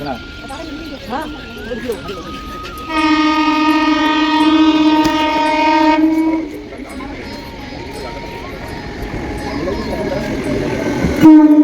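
A train pulls in with rumbling wheels and carriages, and a loud, steady horn blast sounds for several seconds partway through, near and dominant over the background noise.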